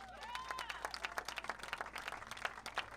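Scattered applause from spectators at an outdoor high school homecoming football game, made up of distinct distant claps with faint crowd murmur and whistle-like tones around it, quiet and thin.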